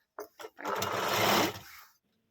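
Sewing machine stitching three blouse pieces together along one margin, two short bursts followed by a steady run of about a second and a half, close and alone.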